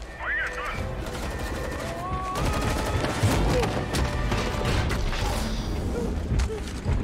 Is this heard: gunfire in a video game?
yes